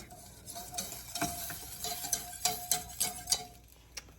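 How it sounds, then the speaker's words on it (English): A spoon scrapes and taps in a pan as a thickening chicken and breadcrumb sauce is stirred over medium heat. The strokes come in a fairly regular rhythm of soft clicks and scrapes over a faint sizzle. "we are just gonna continue to stir this over a medium heat until this gets nice and thick"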